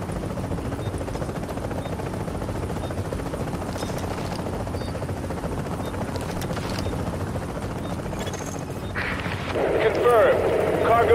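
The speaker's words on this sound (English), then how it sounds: "Chopper is inbound." A helicopter arrives for a cargo pickup in The Division video game, its steady rotor roar running throughout under game ambience and growing louder near the end.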